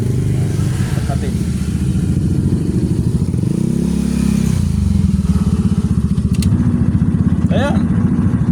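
Washing machine motor running during a repair test of a non-working machine, a loud steady low buzzing hum with rhythmic pulsing, briefly dipping in pitch mid-run, with faint voices in the background.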